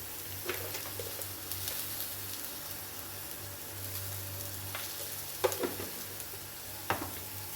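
Onions and curry leaves frying in a pan for a coconut chutney, a soft steady sizzle with a low hum beneath and a few sharper stirring clinks, fairly quiet and close, no voices.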